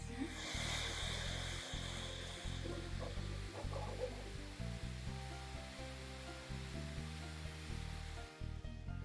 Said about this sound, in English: this is the noise of the printer.